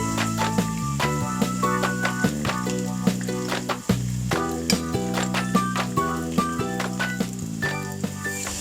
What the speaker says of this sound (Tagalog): ang paggisa sa ating mga ricado